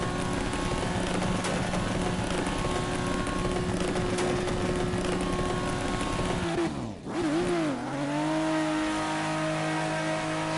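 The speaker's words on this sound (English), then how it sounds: "Third gear burnout." In the Assetto Corsa racing sim, a car holds a third-gear burnout, its engine droning at high revs with steady tire noise, then briefly dips and recovers around the seven-second mark. The engine stays loud and continuous throughout, with no voices.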